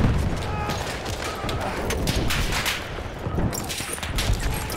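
Enemy machine gun fire rattles through a WWI battlefield in a video game, continuous loud bursts of shots and distant booms layered over one another for several seconds.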